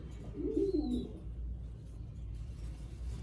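In a loft, a pigeon gives one soft, low coo near the start over quiet background hum, and a single faint chirp follows.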